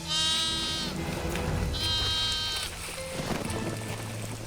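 A lamb bleats twice in long wavering cries, loud and close, with a fainter third call toward the end over a low background rumble.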